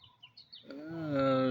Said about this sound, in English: he just makes sound again. The parrot.